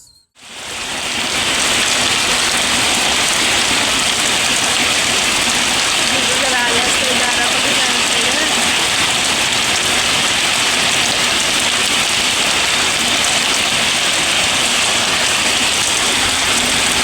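Steady, heavy rain pours down continuously, a dense hiss of drops striking surfaces close by, with no voices and no letup.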